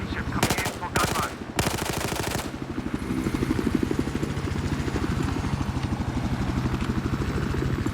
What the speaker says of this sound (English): Friendly gunship coming in for gunrun.